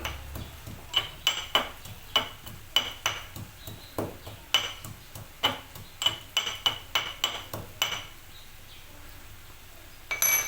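Garlic and cumin seeds pounded by hand in a kitchen mortar, a steady series of sharp, close, rhythmic thuds and knocks with brief pauses, loud and alone.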